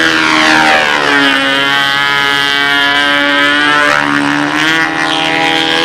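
A control-line model Spitfire's small engine whines loudly and continuously as the plane flies its circle, the pitch shifting gently with the Doppler sweep as it passes.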